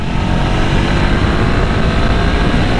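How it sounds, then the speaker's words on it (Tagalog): The engine of an FKM Express 500 SC motorcycle roars loud and close in a dense, continuous blast of noise. The level stays steady throughout, with no clear pitch changes. "Napakalakas ng torque nitong motor na to guys, oh. Very responsive yung throttle niya."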